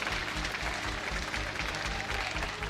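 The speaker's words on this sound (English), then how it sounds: "We have a very energetic crowd today." Energetic crowd at a League of Legends EU LCS esports match, applauding and cheering as a steady, dense wash of clapping throughout, with no clear speech on top.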